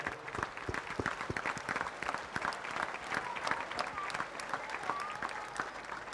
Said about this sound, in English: I want you to give a big round of applause for these are children present over here.